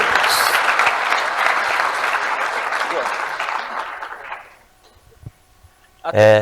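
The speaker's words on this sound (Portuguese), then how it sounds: "E uma salva de palmas para eles, por favor." An audience at the FAME '24 event applauds the speakers with dense clapping that fades out after about four seconds, followed by quiet and then a brief burst of a voice.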